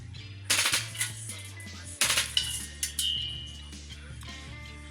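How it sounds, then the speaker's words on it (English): A Valken M17 airsoft gun empties its magazine into a canvas sack indoors in a small apartment, giving two short bursts of rapid clattering shots followed by a few lighter clicks over a faint low hum. "mag dumping into a canvas sack"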